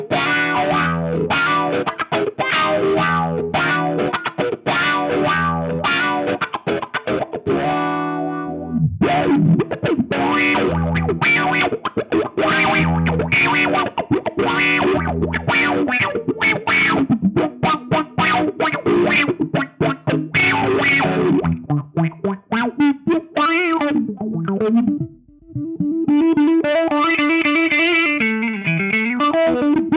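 A clean Stratocaster on its neck pickup, played through a Fractal EV1 expression pedal, runs first through a Crybaby-type wah and then a Paragon wah. Rhythmic strummed chords give way to sweeping single-note lines, loud and upfront, with no speech.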